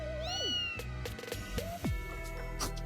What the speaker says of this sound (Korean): 야 고양이 뭔데?